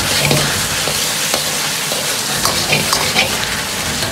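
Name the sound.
stir-frying zucchini slices with pork in a wok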